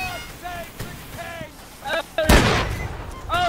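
Artillery cannon fire in Holdfast, with a loud booming blast midway, surrounded by whistling projectile sounds and a rumbling background.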